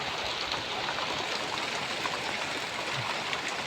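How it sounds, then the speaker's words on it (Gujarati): Light rain falling with a bit of wind, a steady, even wash of hiss that holds at one level throughout with no voices. "હાલમાં થોડો થોડો પવન છે, પણ વરસાદ સામાન્ય છે"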